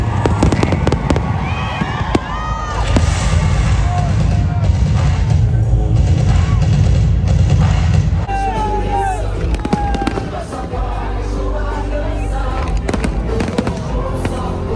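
Fireworks show at the Rock in Rio music festival, a long run of dense crackling bursts and booms, loud and close, over a steady crowd roar with voices calling out.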